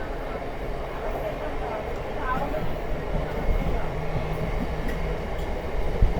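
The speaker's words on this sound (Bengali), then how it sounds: "আমার ট্রেন ছেড়ে দিল আহমেদপুর রেলওয়ে স্টেশন থেকে" Barddhaman–Rampurhat MEMU local passenger train pulling out of Ahmedpur station, a steady, fairly loud rumble of wheels and carriages rolling on continuously, with no clear voices.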